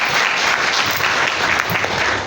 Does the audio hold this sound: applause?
yes